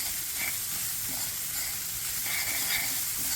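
Poha being stirred in a hot pan before peanuts go in, giving a steady close sizzling hiss broken by repeated scraping spatula strokes, with no one talking.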